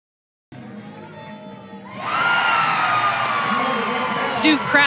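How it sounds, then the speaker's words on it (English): Duke fans at a college softball regional game erupt into loud, sustained cheering that swells after a quieter opening of crowd murmur. "Duke crowd likes that call,"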